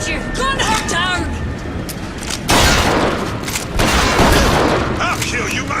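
Gunfire in the video game BioShock Infinite: Burial at Sea. Loud bursts of shots and booms come in two heavy clusters, following a shouted voice and other game sounds.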